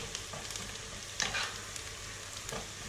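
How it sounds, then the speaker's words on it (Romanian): Garlic frying in hot oil while being stirred, a soft continuous sizzle with faint scraping of the spoon, quiet and close with no talking. "Amestecăm și lăsăm câteva secunde pentru ca usturoiul să-și elibereze aroma."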